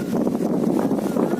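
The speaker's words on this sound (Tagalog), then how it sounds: "malakas ang hangin dahil sa bagyo" Strong storm wind buffets the microphone at a fishing port, a loud, continuous low rumbling roar with gusty fluctuations throughout the short span.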